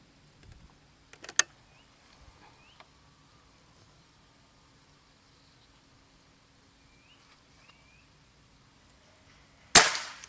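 A sharp, sudden crack of an air rifle shot near the end, after a quiet stretch with a few faint clicks and small handling noises.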